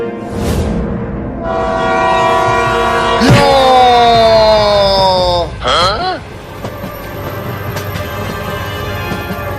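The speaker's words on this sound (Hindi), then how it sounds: "ट्रेन ने उसे उड़ा दिया।" A cartoon train blares its loud horn in long tones that bend and sweep, backed by a rushing, rumbling train, then cuts off abruptly and leaves a quieter rolling rumble.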